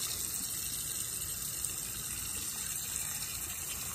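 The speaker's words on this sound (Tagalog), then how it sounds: "So, lalagyan ko ng tubig." Filtered water pours steadily into a cooking pot, a constant close rushing splash with no breaks and no talk.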